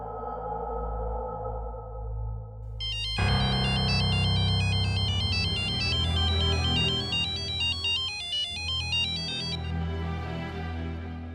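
Phone ringtone from an unknown number, a loud bright electronic melody of rapid repeating tones that starts abruptly and plays steadily for several seconds over a low background hum, then cuts off.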